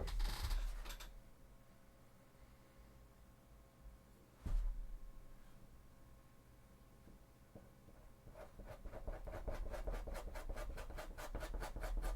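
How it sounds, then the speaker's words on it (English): A tool scrapes the surface of Sisters of Battle cosplay chest armour, making quiet rubbing and scratching strokes, a sharp knock midway, and a rapid run of rhythmic rasping scrapes near the end. "I'm just trying to scrape off so I don't have to sand it off later."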